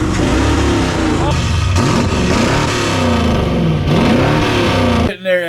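A 1978 Ford F-350 engine revs hard and continuously through a loud aftermarket muffler exhaust, rising and falling in pitch before cutting off abruptly near the end; a voice talks over it.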